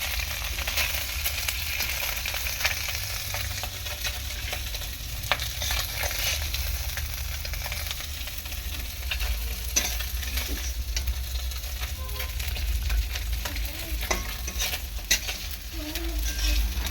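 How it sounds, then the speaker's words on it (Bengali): Katla fish pieces frying in a pan, a loud constant close sizzle with scattered crackles and occasional stirring scrapes, running alone without talk. "এরপর আমি এই কাতলা মাছগুলো প্রথমে একটু ভেজে নেব।"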